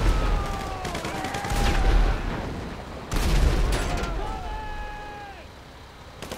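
Gunfire in the video game GTA 5, loud bursts of shots around the first two seconds and again near three seconds, heard alongside excited voices of players talking over the action.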